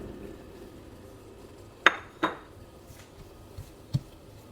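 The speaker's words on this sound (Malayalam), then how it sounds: "നന്നായിട്ട് മിക്സ് ചെയ്ത്" Beetroot theeyal spices being mixed in a pan, with two sharp metallic clinks of a utensil against the pan followed by a few softer taps, close, amid quiet kitchen background.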